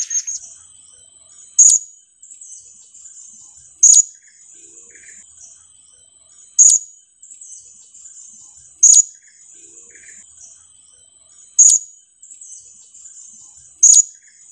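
A serindit (hanging parrot) gives its basic call, a sharp high-pitched 'cit'. Six single chirps repeat at an even pace roughly every two seconds, clear and close, over near silence.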